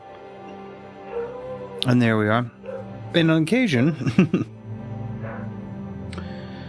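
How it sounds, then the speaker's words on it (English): A pet dog named Fiona barks and yips in another room, two short bursts of loud barking with whining in between, heard under someone talking over game sounds. "you may hear a puppy dog in the background"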